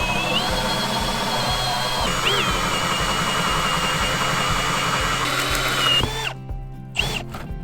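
A power drill bores big holes in an attic during a DIY mini-split and insulation job, running loud and steady with a rhythmic pulsing chug, then cutting off and restarting in short bursts near the end.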